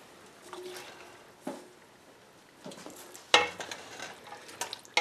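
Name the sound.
ground beef sizzling in a chili pot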